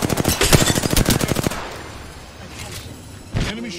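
Rapid automatic gunfire in Apex Legends, a dense burst of close, loud shots lasting about a second and a half, followed by quieter game sounds and one more thump near the end.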